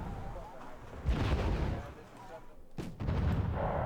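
Artillery barrage in the Wargame: Red Dragon video game, heavy booming gunfire rolling through a dense continuous mix with one sharp crack near the end, while a voice talks underneath.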